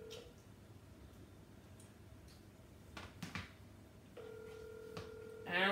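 A phone call rings out through a speaker, steady repeated ringback tones starting partway through, fairly quiet against a low room hum.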